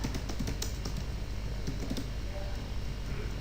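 Light, quick keystrokes on a computer keyboard as a question is typed, an irregular run of soft clicks over low background hum.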